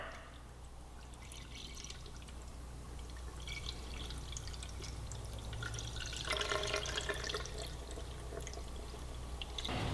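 Engine coolant poured from a jug through a funnel into a sportbike's cooling system, a steady close liquid trickle and gurgle that grows fuller and splashier toward the end, no voices.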